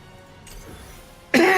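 A single sharp cough bursts out near the end, loud and close after a quiet stretch, with no talk over it.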